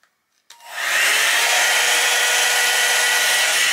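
B&M Elle blow-dry brush switching on after a brief click, then a loud, steady airy whoosh of the motor and fan that keeps running close by.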